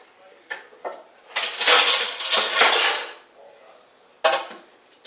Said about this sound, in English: Now I'm going to take a pan